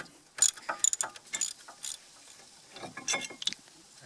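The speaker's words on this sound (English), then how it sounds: "especially if you're using a ratchet like this. So now you can just undo them" Ratchet wrench undoing the bolts on a Peugeot 206 brake assembly, giving close, irregular bursts of sharp metallic clicking and clattering, with short pauses between bursts.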